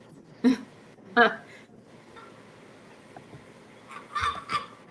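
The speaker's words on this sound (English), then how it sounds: "We have a goose" A goose honks in a fantasy game, two loud nasal calls near the start and a rougher pair of honks near the end, with quiet game ambience in between.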